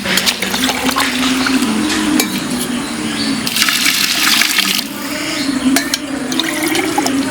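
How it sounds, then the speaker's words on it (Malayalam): Water pours steadily onto rice in a cooking pot with a continuous splashing gush, close and fairly loud, running without pause for several seconds. "രണ്ടര ഗ്ലാസ് വെള്ളം ഒഴിച്ച് വേവിക്കുക"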